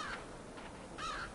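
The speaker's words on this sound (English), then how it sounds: "Yes, Crow, we hear you." Two rough caws from a crow in the dark forest of the LIMBO video game, one near the start and a second a second later, fairly clear over a low ambient game hum.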